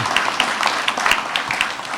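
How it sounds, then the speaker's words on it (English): Applause at an oath of office ceremony as a team member stands, a sparse, close patter of hand claps from a small group, steady for a moment then thinning. "And I'm going to clap for you if nobody else does."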